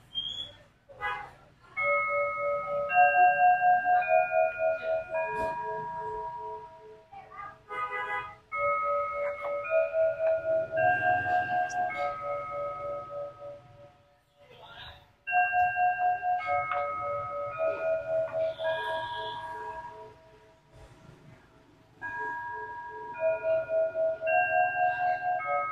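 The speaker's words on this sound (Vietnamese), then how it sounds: "em sẽ cho các bác nghe cái bản nhạc quen thuộc cũng như là bản nhạc kinh điển trước đến từ chiếc đồng hồ" A Seiko Emble marble table clock chimes the Westminster melody in clear, ringing bell tones, with repeated four-note phrases and short pauses between passages, close and loud with nothing else over it.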